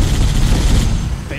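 Gunfire in Halo 1 on Xbox One, a dense continuous burst of shots with game sound and battle noise throughout, loud and close.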